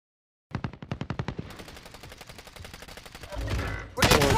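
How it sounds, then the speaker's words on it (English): Video game gunfire rings out as a rapid string of sharp shots, then a dense automatic burst and a louder final volley, close and loud with no talking. "two of them shot me"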